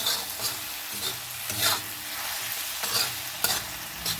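A spatula scrapes and stirs mashed aubergine bharta with red chutney in a large iron pan, giving repeated scraping strokes about every half second over a faint sizzle, close and alone.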